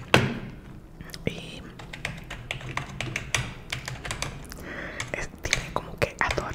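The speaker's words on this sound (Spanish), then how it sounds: "Esto del teclado yo creo que no va a funcionar porque es un teclado muy viejito de mi mamá" An old, worn computer keyboard with sticky keys is typed on in an irregular run of close, crisp key taps and clacks, with occasional soft whispery sounds between the strokes.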